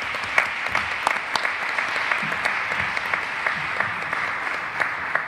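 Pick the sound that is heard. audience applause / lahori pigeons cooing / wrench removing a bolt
audience applause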